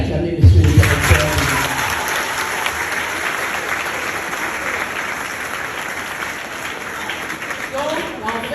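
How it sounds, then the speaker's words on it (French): An audience breaks into loud, steady applause for a school director at a formal ceremony, with a brief voice at the start before the dense clapping fills the rest. "Je vous prie d'acclamer, monsieur le directeur"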